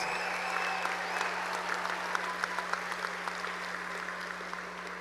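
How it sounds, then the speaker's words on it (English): A large crowd at a high school graduation ceremony applauds the graduating class, with steady, fairly distant clapping in a big hall over a constant low hum, with a few sharper claps standing out. "Let's give all of them a round of applause."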